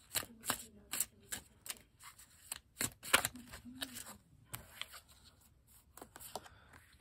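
Tarot cards being shuffled by hand, a run of crisp riffling and snapping bursts at an uneven rhythm, close and fairly quiet, with no talk over them.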